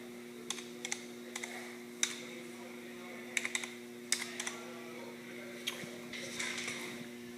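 Keys clatter on a computer keyboard in irregular bursts of close, crisp clicks over a steady low electrical hum, with no talking.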